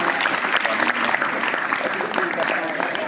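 A school audience claps loudly and steadily for a student placed second in the SSC board exams at a prize ceremony, a dense continuous applause close by with faint voices mixed in.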